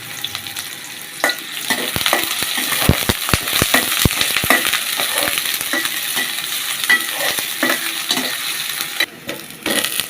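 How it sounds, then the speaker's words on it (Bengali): Chopped onions fry in hot oil for a Bangladeshi home-cooked dish, giving a loud, steady sizzle broken by scraping stirs of a spoon in the pan. "পেঁয়াজ কুচি দিয়ে দিলাম। এগুলো একটু লাল লাল করে ভাজে নিতে হবে।"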